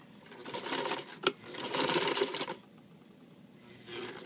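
Sewing machine running in two steady bursts while stitching an invisible zipper close to the teeth, with a brief sharp click between runs and a quieter stretch after.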